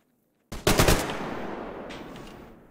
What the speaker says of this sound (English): They're shooting with an SKS.